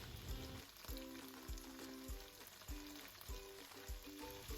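Sliced red onion and meat sizzle in a hot pan, a dense steady frying hiss with periodic soft clanks of a utensil stirring, close and continuous.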